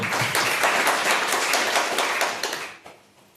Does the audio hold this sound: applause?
yes